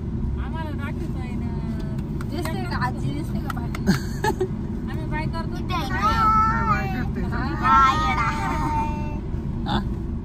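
Heavy traffic at a crowded temple fair in Jejuri during the Magh Purnima Khandoba yatra: a steady engine rumble with passing vehicles and horn-like tones, under loud crowd babble and people talking nearby throughout.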